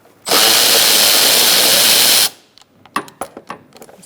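A power tool spins a 10mm socket to remove bolts on a 2002-2006 Toyota Camry, giving about two seconds of steady, loud, close whirring. Sharp metallic clicks and clunks of the socket and bolts follow.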